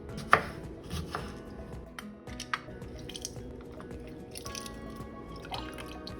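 Scallions are chopped on a board for cream cheese, a few sharp knife taps spaced irregularly over soft ringing and dripping kitchen sounds, fairly quiet overall.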